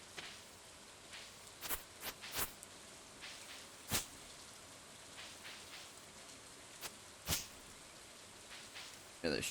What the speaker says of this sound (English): With it raining, they'll stay inside better.